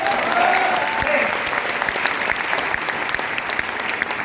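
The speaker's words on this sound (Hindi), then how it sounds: "आपने दिल खोल करके ताली बजानी है" An audience at a Vestige business training session claps heartily in a sustained, dense burst that stays fairly even throughout, with a faint crowd murmur underneath.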